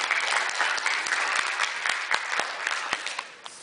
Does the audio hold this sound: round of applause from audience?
yes